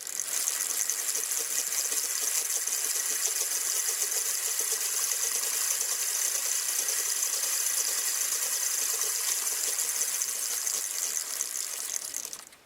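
A bicycle being pedaled on a DIY build with a chainsaw engine mounted on the frame. The freewheel ratchet gives a fast, continuous, even clicking for about twelve seconds, fairly close and alone before cutting off.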